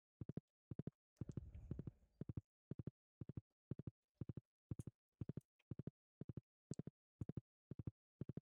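Steady, rhythmic clip-clop of horse hooves in the farming game Stardew Valley, crisp repeated triplet beats at an even pace, with a brief rustling burst early on and no talking.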